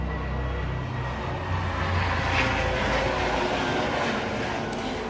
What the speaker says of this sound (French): Oh, un hélicoptère.